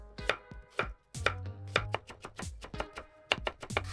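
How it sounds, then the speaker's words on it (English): Knife chopping a carrot into julienne strips on a cutting board, a steady series of crisp, close taps with a few louder thuds, no voices. "Cut 1 carrot into julienne. First cut a thin slice to stabilize it."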